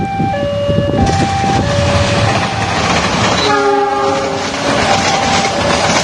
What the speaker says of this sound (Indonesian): Detik-detik kereta api Purwojaya rute Gambir Cilacap mengalami anjlok di stasiun Kedung Gede Kabupaten